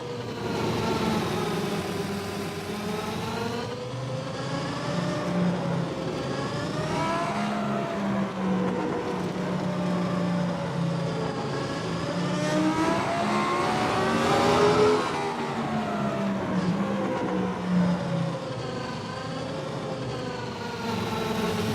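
A racing game car engine held in first gear, revving high and continuously with rising and falling pitch sweeps, loud and steady throughout with no talk over it.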